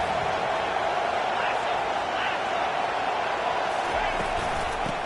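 Stadium crowd at a college football game between Georgia and Ole Miss roars steadily for the defense on a big third down, a dense sustained wash of cheering with a commentator talking over it.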